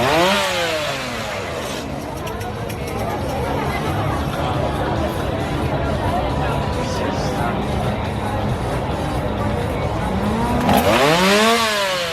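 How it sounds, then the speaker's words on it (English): Revving chainsaws at Halloween Horror Nights, rising and falling in sharp bursts near the start and end over a busy crowd's chatter and screams, with engine drone filling the middle. "Chainsaws are everywhere in Springfield."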